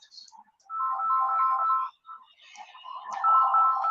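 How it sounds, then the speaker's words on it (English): A mobile phone ringtone for an incoming call plays as two clean, tonal electronic phrases separated by a short gap, clear and fairly close. "somebody is calling my phone"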